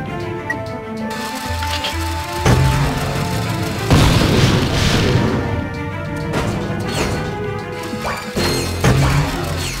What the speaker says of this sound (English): using the gravity bomb here.